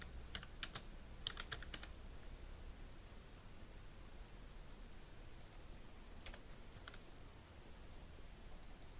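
Computer keyboard typing in bursts of quick keystrokes, a cluster near the start and another after six seconds, over steady background hiss while contact details are entered.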